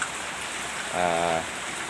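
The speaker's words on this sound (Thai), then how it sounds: "ฝนก็ตกดูทีดูสิ" Early-morning rain falls on a rural area with rice fields, a steady close hiss that runs throughout, with a brief tonal sound rising out of it near the middle.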